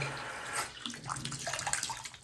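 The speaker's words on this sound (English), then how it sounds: "You can put some water in it and it doesn't drain very well." Water runs steadily into a slow-draining bathroom sink, a continuous splashing and gurgling stream heard up close with no talk.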